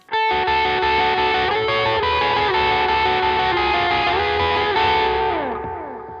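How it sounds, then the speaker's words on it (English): A guitar played with light overdrive from a Blues Driver pedal, sustained gritty chords ringing steadily for several seconds before fading out at the end. "kick in a bit of a light distortion with it, so we'll just use the blues driver"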